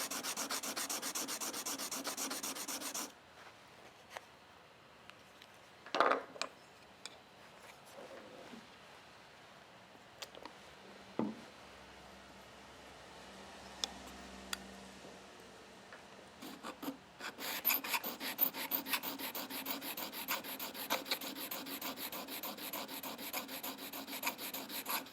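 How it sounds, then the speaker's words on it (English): A steel chisel fitted with a wooden outrigger rubs and scrapes flat across stone, a soft gritty rasp that comes and goes, stopping for a quiet stretch in the middle before resuming steadily. "it keeps the chisel flat on the stone as you move it side to side"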